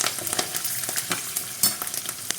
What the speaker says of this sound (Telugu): ఒక 4 గ్రాములు కరివేపాకు, కొంచెం ఆయిల్ ఫ్రై అవ్వాలన్నమాట.